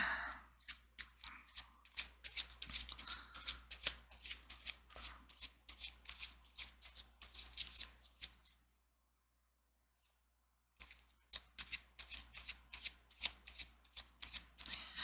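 A deck of tarot cards being shuffled by hand, with quick close riffling bursts repeating steadily, a silent gap of about two seconds partway through, then more brisk shuffling.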